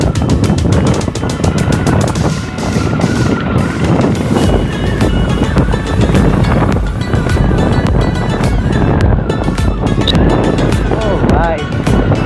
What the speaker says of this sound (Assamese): ভাই বতাহ তামান বতাহ মাৰে, কিন্তু একদম বতাহ ঠাণ্ডা।